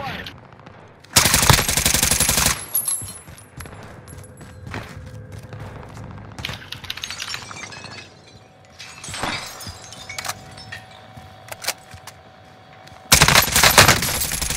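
Gunfire in Call of Duty: Modern Warfare: a loud sustained automatic burst near the start, scattered sharp shots and impacts through the middle, then another heavy close burst at the end, with faint talk in between.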